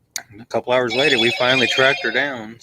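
A mobile phone ringtone plays steadily in the background, a sustained electronic tone running throughout while a person speaks over it.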